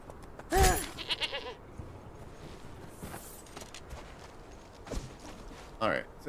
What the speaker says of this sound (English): Get over here, you goat.